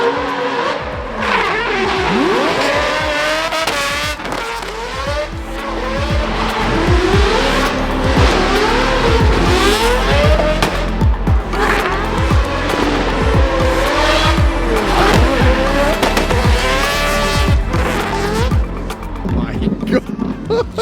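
Barn-find Mazda RX7 with a rotary engine revving hard, its loud exhaust cracking with repeated sharp bangs and pops in a near, continuous, rising-and-falling roar while people talk underneath.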